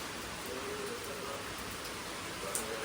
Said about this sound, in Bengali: বাইরে মারাত্মক বৃষ্টি পড়ছে